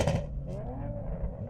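A Toyota Supra Mk IV engine revs with a rising, growling tone, loud and close, climbing steadily over a second and a half.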